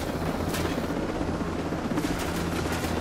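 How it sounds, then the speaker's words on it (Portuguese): A helicopter in the co-op shooter Ghost Recon Breakpoint gives a loud, constant rotor roar that fills the scene, with faint thumps and shots mixed in underneath. "Então desce o helicóptero."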